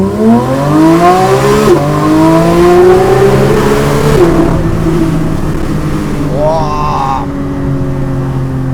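A Porsche GT3 with a straight-pipe exhaust passes close by a wall. It gives a loud, continuous engine roar whose pitch rises and falls as it sweeps through, then the note climbs sharply near the end.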